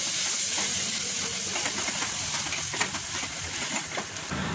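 Masala for mushroom biryani sautéing in a pan, a steady close hiss and steamy sizzle with faint scraping stirs, no talking.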